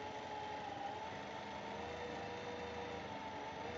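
A sewing machine stitches cloth for a kameez neckline, running as a steady, faint, even whir without pauses and with no one talking.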